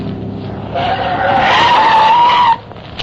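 A car's tires skid and squeal through a hard turn onto a frontage road, a rising tonal screech building over engine noise for about two seconds and then cutting off sharply, loud and close.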